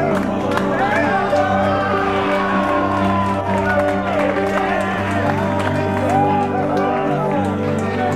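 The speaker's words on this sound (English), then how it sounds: "they are waiting for these two beautiful human beings to get out here so we can all cheer and yell" Wedding guests outside Timpanogos Temple make a lively crowd noise of cheering, whooping and scattered clapping, with voices talking and shouting throughout.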